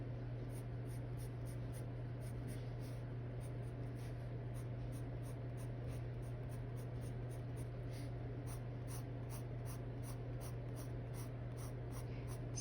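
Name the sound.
colored pencil drawing on paper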